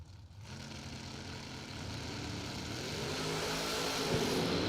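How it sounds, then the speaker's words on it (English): Two Chevrolet drag racing cars battle in a first-round race, their engines a broad, distant roar that swells steadily louder. "Couple of Chevys doing battle here in round number 1."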